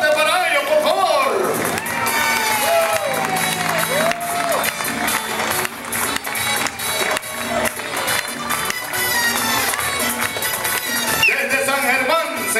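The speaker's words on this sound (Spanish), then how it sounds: "Ahí está el aplauso fuerte para ellos, por favor." A crowd at the end of a long town walk from San Germán to Coamo applauds and cheers the arriving delegation, a dense, loud wash of clapping and shouts beneath an announcer speaking over loudspeakers.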